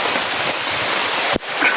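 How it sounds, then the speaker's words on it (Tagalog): A steady hiss of rain falling close by, broad and continuous, broken by one brief dip near the end. "Umuulan na mga tol."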